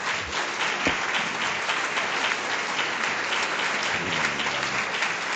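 A hall audience at a delegates' gathering gives steady applause: a dense, continuous patter of clapping hands at moderate level, with faint low rumbles and a brief voice-like murmur underneath.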